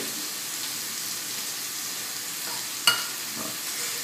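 Chicken with pineapple sauce simmers after two teaspoons of cornstarch go in, a soft steady sizzling hiss close by, broken once by a brief sharp clink of a utensil against the pan.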